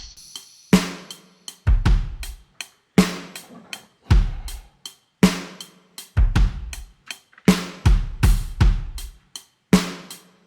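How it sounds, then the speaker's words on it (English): Programmed drum pattern in a swaying 3/4 or 6/8 feel from a recreation of a song: punchy low kicks and bright snare or clap hits repeat in a steady loop, up front and alone, with no voices. "So the first element we're going to look at is the drums."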